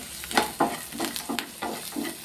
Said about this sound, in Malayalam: നല്ലതുപോലെ എല്ലാം ഒന്ന് ഫ്രൈ ആയി കിട്ടട്ടെ